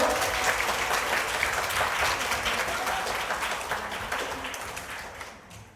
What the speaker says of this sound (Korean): 오이진 강사님 큰 박수 한번 부탁드리고요